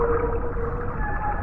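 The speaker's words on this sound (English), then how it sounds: "Then the whale opened its enormous mouth and swallowed Jonah in one big gulp." A whale in an animated Bible story about Jonah calls with a sustained, tonal moan over a deep, rumbling underwater-like bed.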